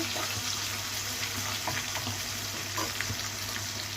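Onions frying in a pan for a raw banana dish, a steady close sizzle with soft crackles throughout and no talking.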